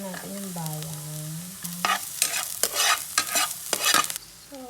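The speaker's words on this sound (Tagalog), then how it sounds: "So, ilalagay na natin ang bawang. Ayan, igisa-gisa na lang." Garlic sizzles in a hot pan while being stirred, with sharp scraping stir strokes and crackling bursts building in the second half; a brief voice-like tone sounds at the start.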